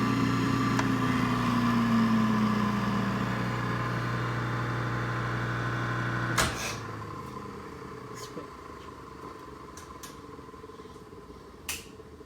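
An electric motor for a Cincinnati milling machine runs with a steady, smooth hum that winds down after about six seconds, followed by a few sharp clicks and handling noises in a quiet room.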